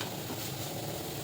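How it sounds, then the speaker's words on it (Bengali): Spice masala fries in a pan while dinner of masala potatoes is cooked, giving a brief, steady sizzle with fine popping that stays close and even throughout, with no talk. "দেখো সাইডে পিটপিট করতে শুরু করেছে, তার মানে মশলাটা কষে গেছে।"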